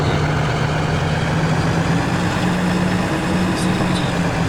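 Steady low tractor engine idling in a farming simulator game, used for sowing sugar beets, a continuous even drone with a faint hum running throughout, no talk.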